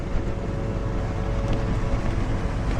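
Strong wind rushing over a microphone at the Wupatki ruins in volcanic Arizona, a loud continuous roaring buffet with gusty swells.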